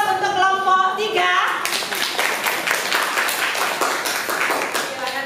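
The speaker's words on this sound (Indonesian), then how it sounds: "Sekali lagi aplaus untuk kelompok 3." Classroom applause for a student group after their presentation: a dense patter of many hands clapping together, steady and fairly loud for several seconds, following a teacher's voice at the start.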